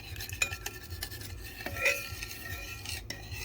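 A spoon scrapes and stirs through a sticky rice mixture with pandan and sugar in a pot, giving soft, intermittent clinks and rubbing strokes, close and fairly quiet.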